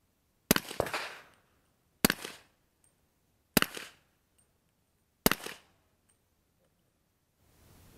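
An AR-15 rifle fitted with a Slide Fire SSAR-15 bump fire stock fires Guerrilla Ammunition Company rounds: four loud, sharp single shots about a second and a half apart, each trailing a short decaying echo, then quiet.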